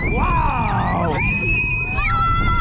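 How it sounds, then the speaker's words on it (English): Riders scream together on the Goldrush launched roller coaster at Slagharen, a loud, sustained chorus of high, sliding screams and whoops over heavy wind roar, close and continuous. "the scream is deafening!"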